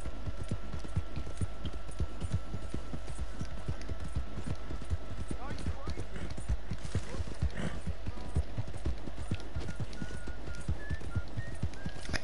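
Horse hooves clip-clopping at a slow riding pace in the video game Red Dead Redemption, a steady rhythmic stream of hoofbeats over constant background ambience.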